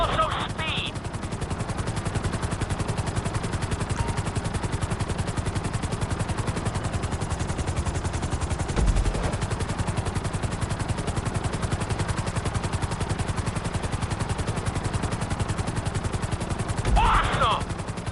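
A helicopter flies in GTA V, giving a steady, continuous rotor drone that holds at an even level throughout, with a couple of brief louder bumps along the way.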